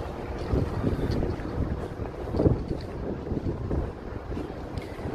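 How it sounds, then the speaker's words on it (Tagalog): Strong wind buffets the microphone in heavy, rumbling gusts, with a low roar of open water beneath. "Lakas ng hangin."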